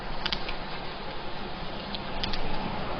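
Steady broadband rain hiss in a PES 2017 football stadium, a dense continuous wash with faint brief ticks on top, moderately quiet and without talk.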